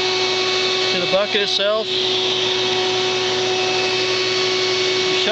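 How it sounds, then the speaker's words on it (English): A Vac-A-Bee bee vacuum runs with a steady, loud motor drone and a high whine throughout, while someone talks briefly over it near the start. "Just go ahead and shut the vacuum off."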